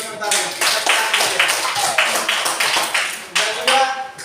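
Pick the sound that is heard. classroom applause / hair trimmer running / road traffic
classroom applause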